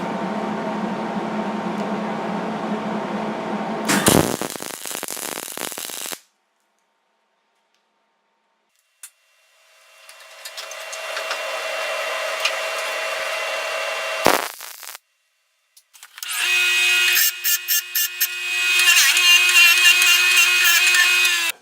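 Steady buzzing and crackling of welding as a bead is run across the top of a homemade barrel bung wrench clamped in a vise, in several bursts separated by silent pauses, loud and close.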